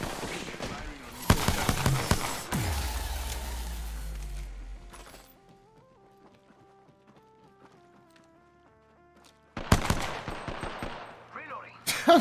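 Rapid bursts of video game gunfire crackle loudly in the opening seconds of a battle, fade into a quieter stretch of melodic tones, then return with more sharp shots near the end.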